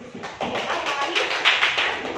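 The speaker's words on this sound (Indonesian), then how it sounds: "Tepuk tangan dulu." Group applause and clapping during a teachers' professional education program session, a short burst of many hands that swells and continues evenly, with some voices mixed in.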